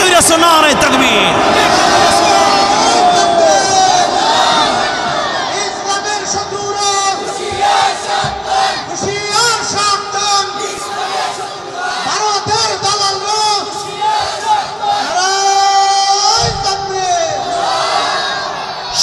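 A large crowd at a Muslim religious gathering in Baniachong, Habiganj responds to a takbir call, loud massed voices chanting and shouting in sustained waves that rise and swell throughout.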